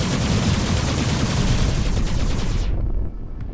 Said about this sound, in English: Is he actually shooting?